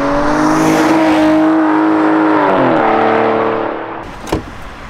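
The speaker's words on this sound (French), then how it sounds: "lorsqu'on accélère, qu'est-ce que ça avance" Aston Martin DBS accelerating hard: loud, close engine roar rising in pitch through the revs, easing off as it shifts and fades, followed by a brief sharp thump.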